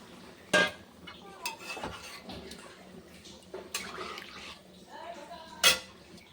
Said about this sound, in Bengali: এই যে হালকা একটু জল দিয়ে দেবো